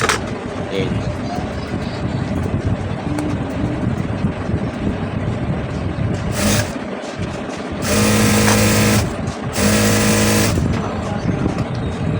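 A sewing machine stitches a blouse, with a steady close mechanical whir and hum that swells into louder bursts of rapid stitching toward the end, while a voice talks over it.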